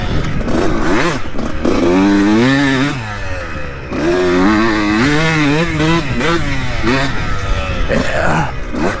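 A 2002 Honda CR125 two-stroke dirt bike runs while being ridden over rutted ground, its loud buzzing engine rising and falling in pitch as the throttle works up and down, close and dominant throughout.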